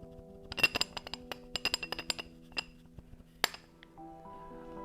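A telescope accessory on a Radian 61 wide-field refractor rattles as it is shaken close to the mic, giving a quick irregular series of small metallic clinks and taps, loud and near, with no talk.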